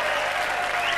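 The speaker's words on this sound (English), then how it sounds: "who we should give a round of applause to" A studio audience applauds at a live music TV show, a brief, dense burst of clapping that stays steady and loud from start to finish.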